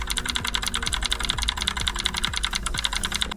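A brand-new Razer BlackWidow Elite mechanical keyboard is typed on in a fast, even run of sharp clicky keystrokes, close and fairly loud, with no voices.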